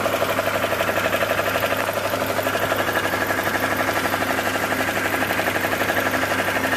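A car's transmission after a rebuilt torque converter was installed, running with a steady droning engine hum overlaid by a rapid, even mechanical whir or rattle that pulses without pause throughout.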